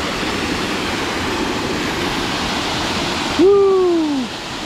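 Tea Kettle Falls in Arkansas pours as a steady, close, broadband roar of rushing water, with a brief whooping voice cutting in near the end.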